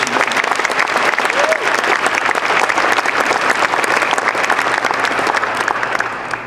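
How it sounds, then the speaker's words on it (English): An audience at an opening-remarks event in Edmonton applauds in a dense, sustained wash of clapping that holds steady and loud for over six seconds, with a faint voice briefly audible within it. "let's give her a nice round of applause for this edition"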